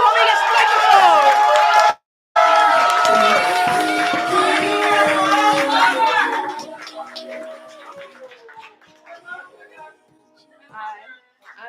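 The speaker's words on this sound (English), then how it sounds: "Clap to the homie gets the microphone" A crowd at an open mic poetry slam cheers, whoops and claps loudly for a performer coming to the microphone. The noise is dense at first with voices mixed in, then thins out to scattered claps and fades to near quiet.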